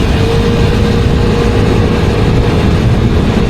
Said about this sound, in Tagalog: Naririnig mo yung motor niya,